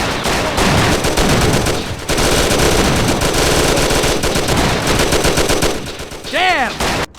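Rapid bursts of automatic gunfire in a shootout in the video game Mafia: Classic, loud and sustained across the clip with brief gaps, with shouting voices mixed in near the end.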